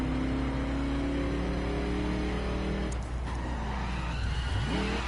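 A video game car engine drones steadily, rising and falling in pitch as it accelerates, with a brief tire skid partway through.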